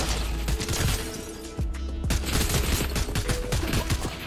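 Gunfire rattles in Fortnite, dense overlapping bursts of rapid shots and impacts, loud and nearly continuous with brief pauses.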